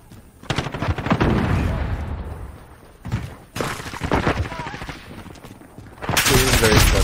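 Automatic sentry gun fire from the Modern Warfare video game comes in loud, heavy bursts with booming impacts and short gaps, overlaid with game radio chatter.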